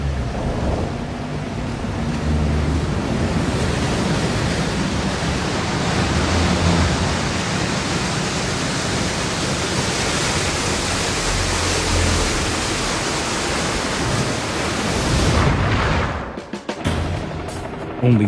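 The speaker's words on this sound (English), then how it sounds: "a wall of water engulfs the ship" A wall of seawater engulfs the sinking aircraft carrier USS Oriskany, heard from the hangar deck camera as a loud, sustained roaring rush of water that fills the whole stretch, then cuts off abruptly near the end.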